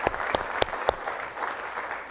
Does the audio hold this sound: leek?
no